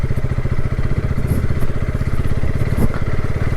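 A KTM Adventure 250 single-cylinder motorcycle engine runs close and loud with a steady, throbbing rumble and fast even pulses, held at a constant pace without a clear rise in revs.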